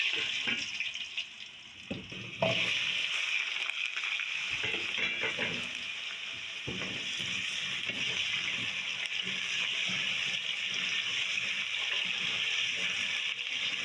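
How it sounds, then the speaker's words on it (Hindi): Potatoes frying in oil with cumin and kalonji, a steady hissing sizzle that rises and holds loud after a brief quieter start, with occasional clinks from the pan. "बस 1 मिनट इसको हम इस तरह जीरे में भून लेंगे आलू को"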